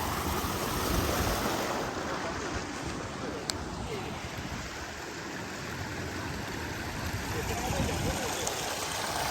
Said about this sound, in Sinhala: එතන හොඳයි නේ වතුර ගලයි යන තැන